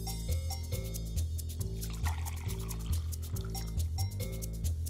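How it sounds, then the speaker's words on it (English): Very hot coffee is poured into cups in a lab tasting test, with repeated short liquid pours and trickles recurring in an even rhythm, quiet and close, with nothing else heard. "Pour 150 milliliters of very hot coffee into each cup."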